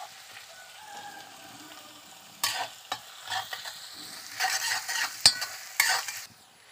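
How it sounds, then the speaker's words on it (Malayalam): Ginger and garlic sauté with curry leaves in a pan for a beef brain fry, a soft sizzle broken by scraping stirs that grow busier toward the end, close by and without speech. "ഇഞ്ചിയും വെളുത്തുള്ളിയും ഒന്ന് വഴറ്റിയെടുക്കാം നമുക്ക്."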